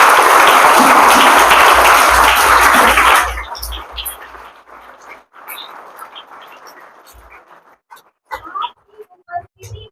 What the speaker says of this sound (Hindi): आज मुख्य अतिथि का स्वागत करें सब तालियों की गड़गड़ाहट के साथ